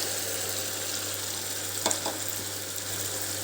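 Soft tomatoes with onion paste sauté in a pan for a gravy, making a steady close sizzle and frying hiss with a brief stirring scrape partway through.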